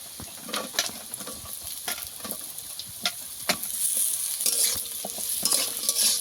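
Potatoes and gima greens stir-fried together in a pan, a steady sizzle broken by irregular scraping strokes of the spatula, the frying growing louder partway through; no one speaks.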